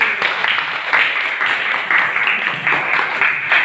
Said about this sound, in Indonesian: tepuk tangan buat Erin